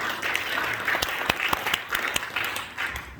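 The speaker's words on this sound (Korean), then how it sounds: "우리 하나님 앞에 영광의 박수." A church seminar audience breaks into steady applause, dense clapping that sounds moderately close and continues throughout.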